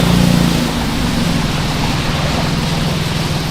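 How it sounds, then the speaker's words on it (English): A stock Infiniti Q50 with the VR30 engine, not cold-started, idles steadily nearby, a continuous low rumble with a slightly louder swell at the start, alone without talk. "I'll start it, and you guys can hear what a stock Q50 sounds like"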